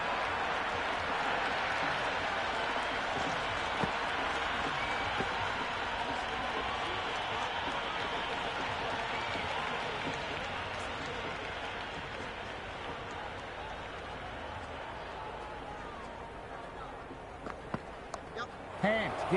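Stadium crowd in the Cricket 26 video game applauding and cheering a boundary four, a dense sustained roar of clapping that fades gradually toward the end, with faint commentary talk underneath.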